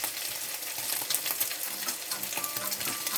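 Ingredients for Italian pasta frying in a pan, a dense continuous sizzle with small crackles and light clicks throughout, close and without speech.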